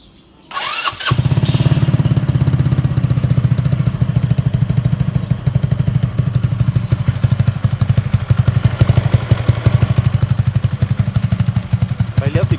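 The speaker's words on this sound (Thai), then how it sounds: "เดี๋ยวฟังเสียงเครื่องนะครับ รถเครื่องเงียบดีนะครับ" A JRD125 motorcycle engine fitted with a Zoomer-X styled body starts up and then idles steadily with a close, even putter throughout, with faint talk in the background.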